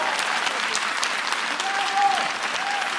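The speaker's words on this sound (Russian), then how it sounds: "Еще раз аплодисменты нашему оркестру." Studio audience applause for the orchestra at the finale of the Russian Dancing with the Stars: steady, dense clapping through the whole stretch, with a slight swell near the end.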